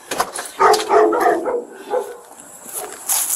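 A dog barks and yips several times in a domestic setting, fairly close and loud, with irregular bursts and pauses and no speech over it.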